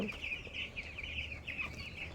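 Broiler chickens on a farm cluck softly in quick, overlapping calls while feeding, a faint, busy flock chatter with low background noise.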